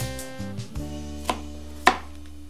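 A knife strikes a cutting board while an onion is chopped for risotto, giving a handful of sharp, close taps spaced irregularly over a low steady hum, with no voices.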